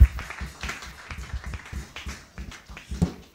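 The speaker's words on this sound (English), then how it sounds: "Can we clap again for our sister mightily?" A church congregation claps for a woman, a run of sharp, fairly regular claps close by with no talking over them.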